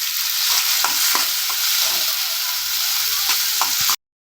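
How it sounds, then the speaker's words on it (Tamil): Tomatoes with salt cooking in a pan, a steady, fairly loud sizzle with soft stirring scrapes throughout, cutting off abruptly near the end. "இப்போ தக்காளி நல்லா வெந்துருச்சு."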